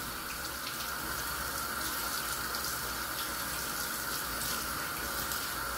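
Tap water runs steadily over a bracelet being rinsed, an unbroken splashing rush from a faucet into a sink, fairly quiet and with no talking.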